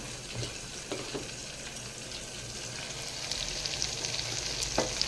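Mixed vegetables sizzling in a pan with onion and tomato for vegetable biryani, a constant close crackling fry that builds slightly louder, with occasional soft stirring scrapes.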